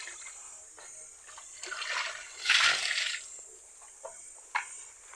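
Water sloshes and splashes in a container during rinsing, with a louder surge of pouring and swirling in the middle, then lighter splashes trailing off.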